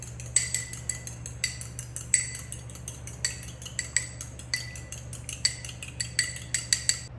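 Egg is beaten for an egg wash, a rapid run of clinking taps as a utensil strikes the bowl, close and crisp over a low steady hum, no voices.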